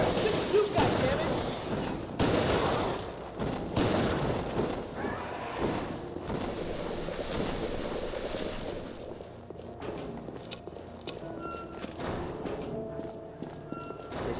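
Gunfire in the video game Resident Evil Revelations: loud, dense bursts of shots and impacts in quick succession with voices talking over them, then the shooting thins out into sparser sounds.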